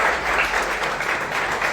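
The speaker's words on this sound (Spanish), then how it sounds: "un aplauso a Dios" A church congregation breaks into a brief, dense burst of applause, steady and fairly loud for under two seconds.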